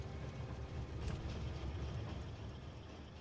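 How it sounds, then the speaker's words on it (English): Train arriving in the video game Factorio, a faint, steady low rumble of rolling rail wagons with a brief brighter swell, no voices over it. "we should actually see the train coming in"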